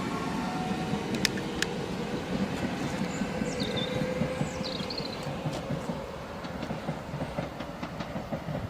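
An electric Southeastern Networker train on the South Eastern Main Line runs steadily past a station at Swanley, with continuous rumble, rhythmic wheel clatter and faint high squeals above the roar, loud and close throughout.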